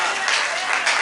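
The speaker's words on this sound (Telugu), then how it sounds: "చప్పట్లు కొట్టి దేవుని స్తుతి." Church congregation clapping in praise of God during a sermon, a short burst of many hands clapping together, moderately loud and a little uneven over about a second.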